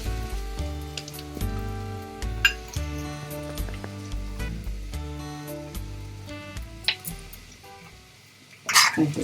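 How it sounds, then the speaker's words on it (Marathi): Onion frying in oil in a pan with turmeric and salt added, soft sizzling under frequent clinks and scrapes of a spoon against the metal pan, ending in a louder clatter. "कांदा भाजेपर्यंत आपण हळद मीठ टाकून घेऊया."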